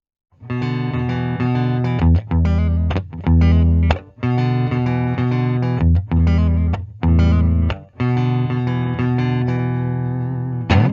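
Distorted electric guitar, a 2010 Gibson Jonas Brothers Signature, through an amp plays chopped chords in short bursts separated by abrupt stops, loud and close, no voices.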